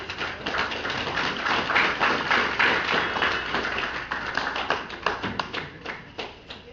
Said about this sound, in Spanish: vamos a dar la bienvenida con un fuerte aplauso